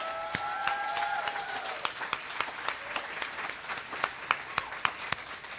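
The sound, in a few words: audience round of applause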